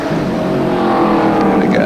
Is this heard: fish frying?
no